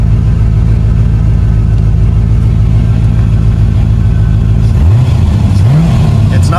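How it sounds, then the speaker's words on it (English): A 1989 Corvette engine runs loud and close in a steady low drone for several seconds, then revs up and down in a few swells near the end. "It's not stumbling under load as much when I rev it."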